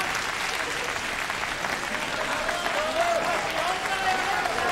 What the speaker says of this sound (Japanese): もちろん拍手をどうぞ。